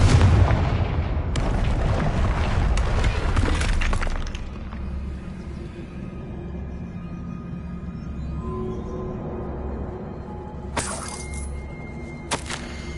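A Confringo spell blasts through a barrier in Hogwarts Legacy, giving a loud, rumbling explosion with crumbling debris that fades into a low hum, followed by a couple of sharp faint clatters.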